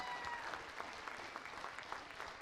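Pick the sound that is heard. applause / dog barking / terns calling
applause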